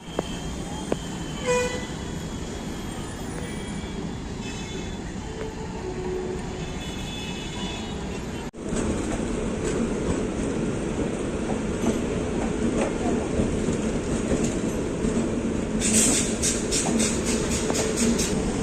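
The 12657 Bangalore Mail express train at a Chennai station platform gives a continuous loud rumble, with a sharp shift midway as the sound grows denser and a brief higher tone late on.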